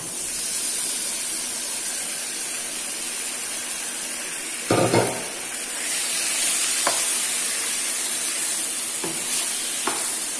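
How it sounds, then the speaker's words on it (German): Pork pieces hit a hot pan for a pork and potato stew, giving a steady loud sizzle and hiss, with a sharp burst of clatter and a few stirring knocks. "Jetzt fügen wir unser Fleisch hinzu."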